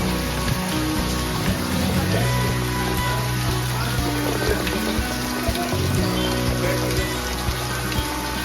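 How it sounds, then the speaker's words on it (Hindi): Water dripping and trickling steadily from a cave roof at Sahastradhara, a dense, continuous patter like light rain, close and even throughout, with no voices. "उनकी छत से अविरल होती धारा रिमझिम बारिश की बूंदों से मन चहक उठता है"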